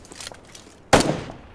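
A single loud gunshot in the video game PUBG on the Asia server, a sharp crack with a fading echo, preceded by faint quieter noises.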